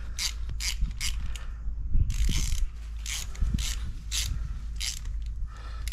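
Ratchet tightening a cover bolt on a KTM 1290 Super Adventure S motorcycle during an oil change, a close, loud run of rapid rhythmic clicks in repeated strokes with brief pauses, no talking.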